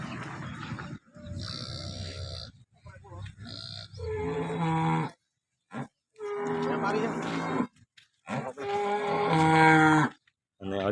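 Horned cow that calved two days earlier, on a farm in Banaskantha district, giving several long, deep moos and grunts, close and loud, separated by short silences.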